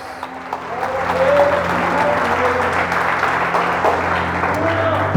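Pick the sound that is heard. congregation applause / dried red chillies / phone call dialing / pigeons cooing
congregation applause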